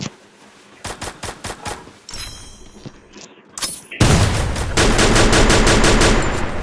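Rapid bursts of automatic gunfire from a shooter video game, first as separate short volleys, then a loud, sustained stream of shots up close.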